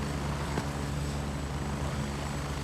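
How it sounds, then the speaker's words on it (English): Helicopters fly overhead with a steady, loud low rotor-and-engine drone that holds even throughout, with no talk over it. "The choppers are very loud."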